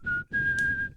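Someone whistles a clear, steady high note close up, briefly broken after a quarter second and then held for over half a second before fading out.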